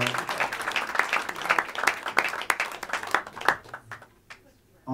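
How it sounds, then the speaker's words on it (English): Audience applause in a jazz club, lively clapping with scattered whoops that thins and fades out after a few seconds, with a voice speaking over it. "Let's have a round of applause for our pianist, Jeb Patton, on the piano."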